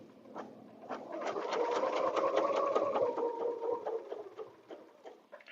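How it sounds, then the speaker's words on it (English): A sewing machine runs steadily while stitching along a quilt border, a continuous close whirring hum with rapid needle pulses lasting several seconds before slowing at the end. "I'm going to stitch up to the top"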